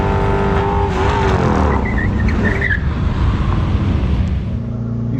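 A 760 hp Ford Mustang Shelby GT500 roars loudly and up close at a drag strip, its engine revving hard with a brief tire squeal in a dense, continuous mechanical wash.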